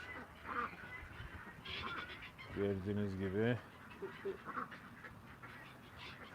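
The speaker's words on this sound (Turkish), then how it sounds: "Ördeklere bakın arkadaşlar" Ducks quacking in a yard at evening, one loud nasal run of quacks standing out in the middle, with other faint calls around it and someone speaking over much of the clip.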